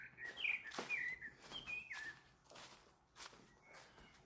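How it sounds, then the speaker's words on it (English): A bird sings outdoors during a walk in stormy weather: a run of bright, clear chirps and whistled notes over the first two seconds, then quieter calls, with footsteps crunching underneath throughout. "That bird sounds kind of beautiful."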